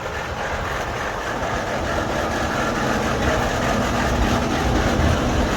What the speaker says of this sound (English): Then we're just gonna back the tractor off.